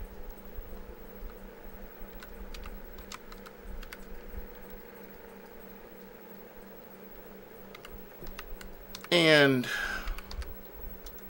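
Steady, rapid tapping on a computer keyboard runs through the whole stretch at close range, with a brief burst of a voice near the end over a faint fan hum.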